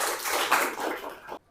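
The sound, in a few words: class clapping hands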